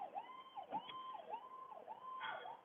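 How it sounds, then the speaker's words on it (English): An ambulance siren wails in a steady repeating up-and-down cycle, heard from a distance at moderate volume with no talking over it. "Oh, ambulance. Ambulance."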